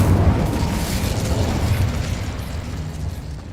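Incendio fire spell cast in the video game Hogwarts Legacy, a loud dense whooshing burst of flame with deep rumble that slowly tapers off.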